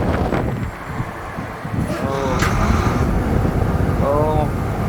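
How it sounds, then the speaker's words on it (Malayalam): Strong wind buffeting the microphone beside a truck on a Canada to USA trip, low rumbling gusts throughout with someone talking over it. "ഓ, നല്ല കാറ്റുണ്ടേ."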